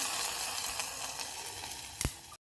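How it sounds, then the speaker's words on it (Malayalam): Dried red chilies, mustard seeds and curry leaves tempered in hot oil for a Kerala amla curry, a soft continuous sizzle and crackle with a sharper pop near the end before it cuts off. "ഇനി അതിലേക്ക് വറ്റൽമുളകും കടുകും കറിവേപ്പിലയും കൂടി വറുത്ത് ചേർത്ത് കൊടുക്കുക."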